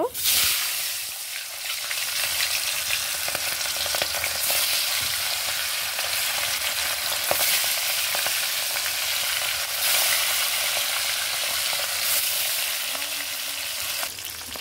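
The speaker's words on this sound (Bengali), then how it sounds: "এখন তেল গরম হয়ে গিয়েছে, এখন মাছগুলো ভেজে নেব।" Boal fish, marinated in turmeric, frying in hot oil: a loud, steady crackling sizzle that holds without a break for the whole stretch, with no voices over it.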